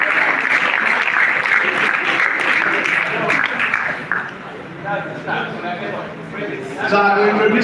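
Audience clapping at a Nigerian directors' master class, steady applause throughout with a voice speaking over it as it thins out near the end.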